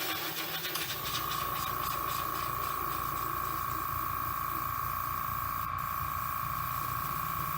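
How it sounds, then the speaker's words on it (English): Compressed air hissing steadily through the gap of a car door during airbrush painting, with a close, constant high whistle-like tone over broadband hiss, no talking. "What you hear is the air going between the crack and the door."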